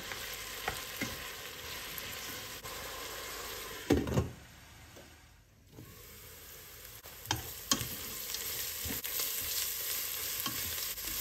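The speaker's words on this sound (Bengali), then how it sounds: "এখন হালকা নেড়ে চেড়ে দিয়ে দেব রসুন বাটা, আদা বাটা। আবারও ভালো করে নেড়ে চেড়ে একটু কষে নেব।" Spices being stirred and fried with garlic and ginger paste in a pan, a steady close sizzle with scraping stir strokes, a louder clatter near four seconds and a brief lull after; no talking.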